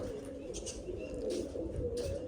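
Pigeons perched up high coo steadily in a continuous low murmur, close and fairly quiet, with a few faint higher chirps above and no voices.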